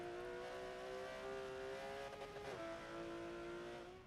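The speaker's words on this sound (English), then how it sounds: "he's driving the 2016 Porsche Cayman GT4" A 2016 Porsche Cayman GT4 racing in Forza on an Alps track, its engine droning in a high steady tone that dips sharply at a gear shift and then climbs again, close and fairly quiet.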